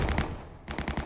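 A Bushmaster M242 autocannon fires in rapid, rhythmic bursts of loud, close shots, with a brief pause midway before the pounding resumes.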